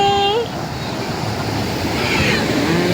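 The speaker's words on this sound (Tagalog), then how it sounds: "Sobrang lakas ng alon ngayon at high tide." Strong ocean waves at high tide on a beach at Agoo, La Union roll in as a loud, continuous surf roar with wind buffeting the microphone, and a brief tonal sound at the start.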